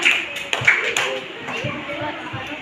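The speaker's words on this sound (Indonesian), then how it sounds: "tepuk tangan." A fifth-grade class claps hands in a classroom during a science lesson, with a few uneven, scattered claps near the start mixed with children's voices and chatter.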